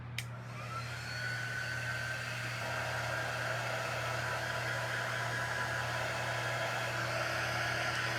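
A hair dryer blows on fresh paint on a coffee bar sign, a steady whooshing airflow with a constant motor hum that begins with a quick click and runs evenly to the end, close to the microphone.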